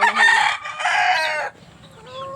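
A rooster crows loudly and close by, one long drawn-out call, then trails off into quiet.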